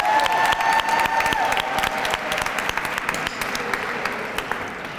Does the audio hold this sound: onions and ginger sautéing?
no